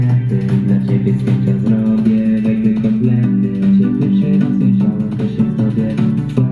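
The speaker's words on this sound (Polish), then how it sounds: "to tak w tle jest to pianinko" A full disco polo song plays continuously, with a piano sitting in the background beneath the fuller mix of sustained chords and rhythm.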